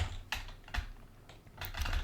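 Close, quiet typing on a computer keyboard during a coding session, a few scattered keystrokes and light clicks with no talking.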